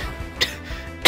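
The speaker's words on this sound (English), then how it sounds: "here comes the coughing" A person coughs twice, sharp and close, with a short gap between the bursts and little else around them.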